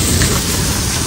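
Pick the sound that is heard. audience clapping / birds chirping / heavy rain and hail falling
heavy rain and hail falling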